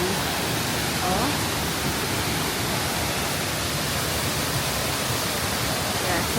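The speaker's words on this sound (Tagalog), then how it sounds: "ito yung Putolan Waterfalls na pinuntahan namin" Rushing water of Botolan Falls, a dense, steady roar of falling water that fills the scene from start to finish, with a voice faintly audible beneath it.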